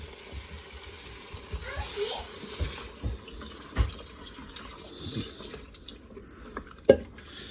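Chicken broth pours and splashes into a Ninja Foodi pot, with intermittent sloshing and a few louder splashes while people talk nearby.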